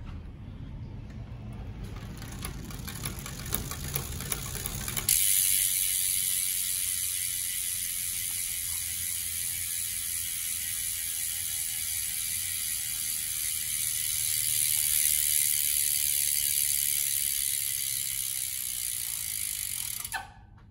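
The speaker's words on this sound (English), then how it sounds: "Free hub sound check on the Vision Metron 40 disc wheels." Steady, rapid ratcheting clicks of a Vision Metron 40 disc wheel freehub spinning on a road bike, loud and close, starting with a sharp jump and running continuously before cutting off.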